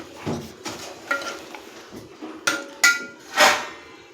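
A spoon scrapes and knocks against a pot while tomato saar with garam masala is stirred, giving a series of irregular clinks and scrapes, fairly close and moderately loud.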